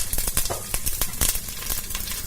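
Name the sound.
cumin and fenugreek seeds popping in hot oil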